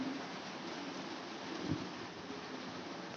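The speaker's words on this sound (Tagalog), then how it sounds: "Sana huminto na yung ulan." Rain falls steadily as a faint, even hiss throughout, with one brief low thump partway through and no voices.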